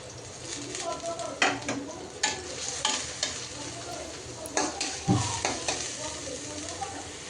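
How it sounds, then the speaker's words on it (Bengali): Chopped onion and a green chilli fry in hot oil, sizzling continuously while a spatula repeatedly scrapes and stirs the pan in uneven strokes, with a faint voice in the background. "তেল দিয়ে একটু গরম হওয়ার পর এখন পেঁয়াজ কুচি আর একটা কাঁচামরিচ দিয়ে দিলাম।"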